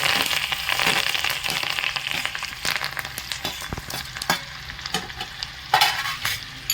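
Sesame seeds, cumin, chili and curry leaves crackling and sizzling in hot oil as a tempering for dhokla, with steady frying hiss and a few sharp pops and spatters, close and fairly loud, no talking.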